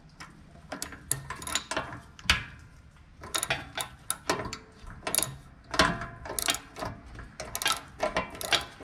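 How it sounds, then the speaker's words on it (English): Hand tool working an 8mm bolt beside the throttle linkage on a minibike, a quiet run of irregular ratcheting clicks and metallic ticks, close up with no voices. "This one that I'm undoing now, next to the throttle linkage, is actually an 8mm bolt."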